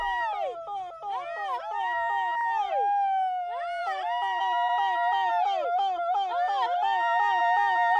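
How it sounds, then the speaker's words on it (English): Highland villagers call out with an extraordinary repetitive cry, loud wavering yodel-like wails rising and falling in a rapid cycle, several voices overlapping and sustained without a break. "communicate by using an extraordinary repetitive"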